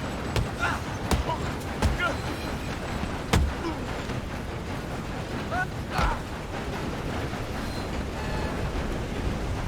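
A train rolls along in an action video game during a firefight, its steady rumbling roar running throughout beneath sharp gunshot-like cracks, with voices talking over it.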